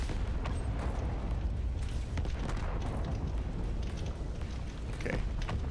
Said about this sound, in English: Where are those extra explosions coming from?